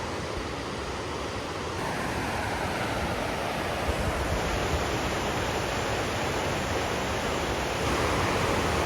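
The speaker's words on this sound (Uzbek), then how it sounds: "Oqsuv tarafdan, Yordon tarafdan keladigan soy." A mountain stream in Shohimardon, flowing down from the Oqsuv and Yordon side, rushes steadily as a loud, continuous broadband wash of water with no voices.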